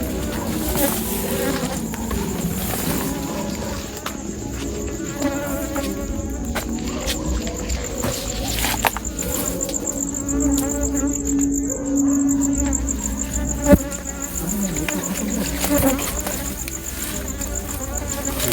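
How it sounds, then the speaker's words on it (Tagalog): A bee buzzes around a public cemetery, an insect drone weaving through the scene beneath ongoing outdoor chatter and background noise. "Yan na naman, bumalik na naman yung bubuyog."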